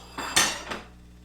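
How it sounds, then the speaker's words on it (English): Cooked linguine being plated into two bowls, with shrimp and fennel on the menu, makes a short clatter of tongs or utensils on dishes, two quick clinks followed by a lighter third, close by and without speech. "Then I'm going to plate the pasta in each bowl"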